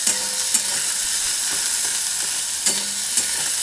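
Onion fries in a pan for chicken bahar with a bright, constant hiss and crackle, and a few light knocks of a utensil mark the stirring.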